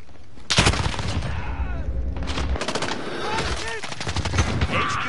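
M4 rifle fire in a first-person shooter match, loud bursts of rapid automatic shots in several volleys with brief pauses, mixed with game sound effects and faint voice callouts.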